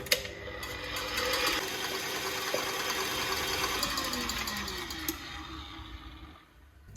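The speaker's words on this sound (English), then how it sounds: "Now we're going to give these a whisk." An electric whisk whips eggs toward soft peaks for a Baileys chocolate mousse, a steady close motor whir running for several seconds before easing off near the end, with no talking.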